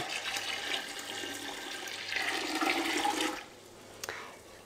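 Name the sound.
tap water running into a pot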